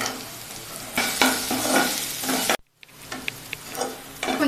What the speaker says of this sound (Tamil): கொஞ்சம் வதக்கிட்டோம்